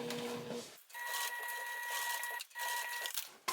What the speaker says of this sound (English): I'm just rotating the bag as I need to so that I can have a straight line to sew over.